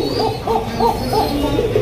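Blue shirtin pigeons cooing up close, a quick run of soft, rounded coos repeating in an even rhythm over a faint background hum.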